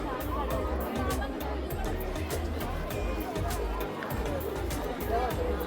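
A dense crowd of devotees at the Aai Jogeshwari temple festival in Nagothane fills the air with continuous babble and chatter, steady and close, with scattered clatter and footsteps mixed in.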